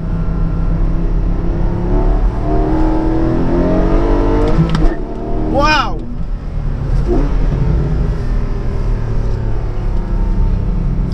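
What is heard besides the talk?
Porsche Cayman 718 GTS 4.0L flat-six engine revving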